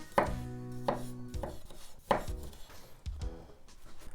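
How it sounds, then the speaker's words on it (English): A knife chops through grapes on a cutting board for a Japanese fruit sandwich, several distinct close thuds spaced irregularly with no talking. "And then the grapes, I'm just going to cut them in half."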